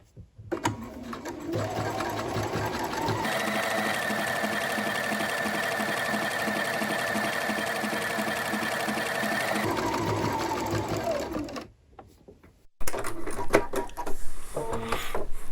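An overlock sewing machine stitches along a fabric edge lined up with the foot's pin, a loud steady whirring run of several seconds after a short start, then it stops, followed by a few faint handling sounds.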